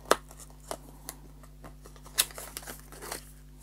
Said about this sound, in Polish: Teraz otwieramy tego z obrazkiem Happy Meala.